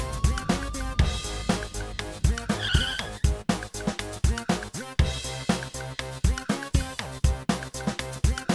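Car turning around with squealing, skidding tires, a loud close tire screech over a revving engine, used as a dramatic sound effect with pulsing music underneath.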